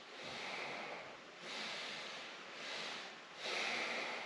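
Slow, deep breaths drawn into the belly by someone lying on their back, four long airy inhales and exhales in a steady rhythm, close and soft, with no speech.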